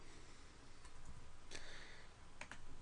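Typing on a computer keyboard during C++ coding, a quiet run of soft key clicks with a few sharper taps near the middle and end, alone without voices.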